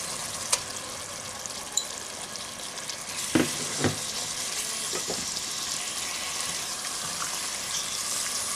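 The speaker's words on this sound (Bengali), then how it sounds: "এখন এর মধ্যে আমি কিমাটা দিয়ে দিচ্ছি কিমাটাকে ভালো করে মশলার সাথে কষিয়ে নিতে হবে" Minced meat sizzles steadily in hot oil with garam masala and spices, a soft continuous crackle broken by a few clanks and scrapes of a stirring spoon against the pan.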